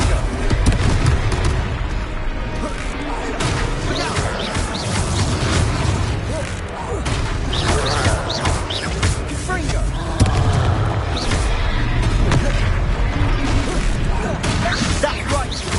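Confringo blasting curse from Hogwarts Legacy going off in combat, dense booming explosive impacts and crashes layered over a loud, busy battle soundscape with repeated sharp hits.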